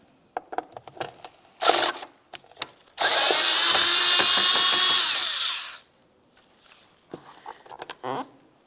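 A power driver runs steadily for about three seconds, backing a Phillips head screw out of the door tray of a 2005-2010 Dodge Dakota, with scattered clicks and handling noises before and after.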